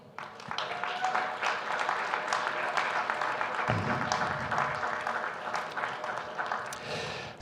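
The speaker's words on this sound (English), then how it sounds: "So a little bit applause for the three of them who are here today." An audience at a conference breaks into steady applause, a dense wash of clapping that starts quickly and carries on for several seconds at moderate loudness, with a low murmur of voices underneath.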